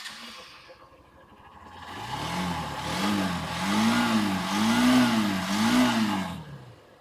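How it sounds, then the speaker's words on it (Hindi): Hero Xtreme 160R 2V motorcycle engine revved in repeated blips, rising and falling several times before settling back, close and fairly loud with no talking. "इंजन साउंड पहले हीरो एक्सट्रीम 160R 2V का आप"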